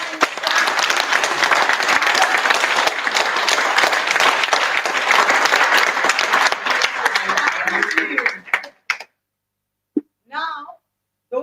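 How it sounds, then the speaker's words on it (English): Big conference audience at a lifestyle medicine event bursts into sustained, dense applause for about eight seconds, then it thins out and stops, followed by a few brief spoken words. "give a big clap for yourself"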